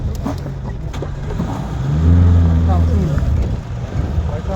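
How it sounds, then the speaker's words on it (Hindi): A safari vehicle in Kanha Tiger Reserve rolls forward with a low, close engine drone that swells as it moves off, while people talk nearby. "आगे आगे चलो, आगे चलो। चलो बढ़ा गाड़ी थोड़ी।"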